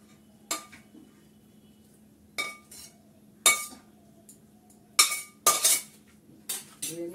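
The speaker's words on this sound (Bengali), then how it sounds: "নাড়াচাড়া করে দিই, গরম মশলাটা দিয়েছি তো, নামিয়ে নেব। কড়াটা প্রচন্ডই ভারী।" A spoon scrapes and clanks against a very heavy kadai while food with garam masala is stirred, giving about seven sharp metallic knocks at irregular intervals over a low steady hum.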